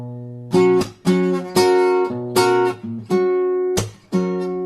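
Measure 128 at the end of a chorus rings out on guitar: about eight plucked chords in an uneven, shifted rhythm, each sustaining and fading, played up close without voices.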